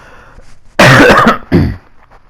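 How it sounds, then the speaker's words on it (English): A loud, rough cough bursts out close to the mic, followed by a second shorter cough, then quiet. "Forgive me, I need to cough again."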